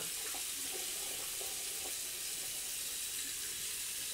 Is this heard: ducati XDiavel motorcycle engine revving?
no